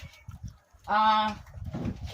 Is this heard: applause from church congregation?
no